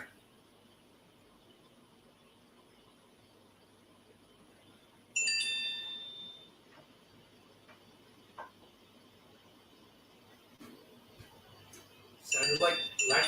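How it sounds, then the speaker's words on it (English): Short electronic notification dings ring out, a bright chime in the middle and a quick cluster near the end, over a quiet outdoor background with occasional faint clicks. "Sounded like little ding ding notification ding dings."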